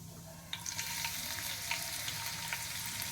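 Green chillies drop into hot oil with cumin and fry with a steady close sizzle and crackle, brightening into sharper spitting pops as they hit the pan.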